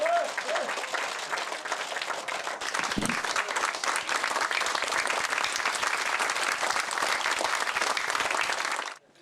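A large crowd applauds at a political party leadership meeting, dense steady clapping that swells after a brief dip and runs loud and continuous before cutting off abruptly, with a voice heard briefly near the start.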